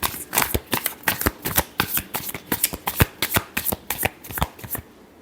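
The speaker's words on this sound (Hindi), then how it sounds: "last shuffle" Tarot cards being shuffled by hand in a rapid riffling rhythm of crisp, papery flicks, close and fairly loud, continuing for several seconds before stopping.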